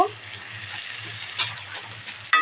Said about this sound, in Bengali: এদিকে টমেটো কুচি আর পেঁয়াজ কুচিটা আমার ভাজা ভাজা হয়ে এসছে